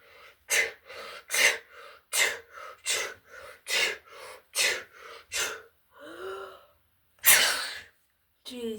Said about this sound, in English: I keep sneezing